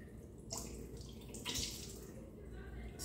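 Excess water poured off fish being prepared for frying, in two short splashing bursts followed by a quieter trickle, close and fairly soft.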